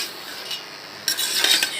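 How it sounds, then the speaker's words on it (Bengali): A spoon clinks and scrapes against a pot as ash gourd is stirred into cooked masoor lentils, with light irregular clatter that grows busier in the second half, close and moderately quiet with no talking. "চাল কুমড়ো দেওয়ার পর আপনারা এইভাবে সুন্দর করে একটু নাড়াচাড়া করবেন"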